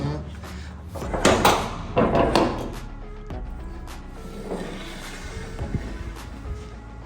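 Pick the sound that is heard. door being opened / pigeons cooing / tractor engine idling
door being opened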